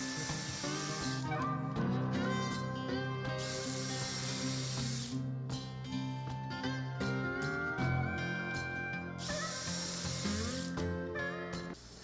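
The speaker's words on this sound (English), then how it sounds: "drilling 3 holes in the runner with the countersink bit" A power drill with a countersink bit whirs in repeated bursts boring holes in a wooden jig runner, its pitch rising and falling, with brief pauses between runs and close mechanical rattling.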